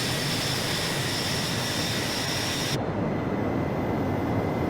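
Jet engines of a Northrop Grumman B-2 Spirit run at full takeoff throttle in Microsoft Flight Simulator 2020, a loud, steady roaring hiss that holds constant, its high whine dropping away partway through.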